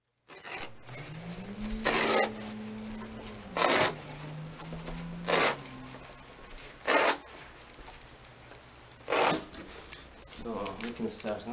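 A utility knife slices carpet into strips over a concrete subfloor, giving five short, rasping cutting strokes at steady intervals over low background noise, with a voice faintly present.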